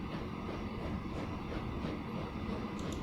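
A train running in the video game Transport Fever 2, a steady rumbling rail roll with faint clickety-clack, continuous and moderately quiet throughout.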